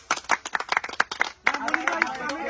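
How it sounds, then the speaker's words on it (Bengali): A group claps loudly in a burst of sharp, overlapping hand claps, with voices talking over them and carrying on after the clapping settles. "সবাই ইমনের পক্ষ থেকে একটা জোরে হাততালি দাও সবাই"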